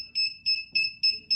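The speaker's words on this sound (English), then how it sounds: "When I face it towards the wall, which is under 50 centimeters, it starts beeping." A distance sensor device beeps as it faces a wall under 50 centimeters away, giving four or five sharp, clear electronic beeps in a quick regular rhythm, close and fairly loud, with no talk.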